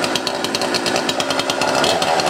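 A spring-assisted easy-start chainsaw runs close by, its two-stroke engine buzzing loud and steady with a rapid rattling pulse, nothing else heard.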